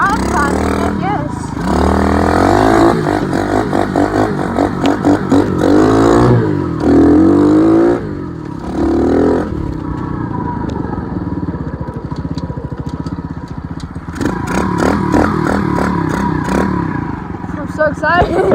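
A dirt bike with a new clutch revs and rides close by, its engine buzzing and surging in uneven bursts with pauses, loud and rough, while people talk.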